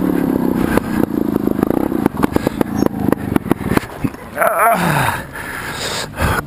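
An enduro dirt bike engine with a damaged muffler revs and rattles harshly up close, loud choppy pops and clattering bursts, then a rising and falling whine as it bogs and recovers during a race.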